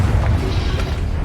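A Confringo blasting spell detonates in Hogwarts Legacy, a loud, dense burst of rumbling explosion with crackling debris that stays full and sustained through the short moment, heard close with no talking.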